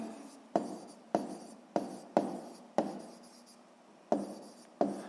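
A pen writes on paper, heard up close: a series of short scratchy strokes, each starting sharp and fading, about eight of them with a longer stroke near the middle.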